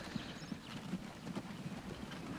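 Horse clip-clop in the video game Transport Fever 2, a steady train of soft, fairly quiet hoof beats at walking pace over a hissy, airy game background, with no voices.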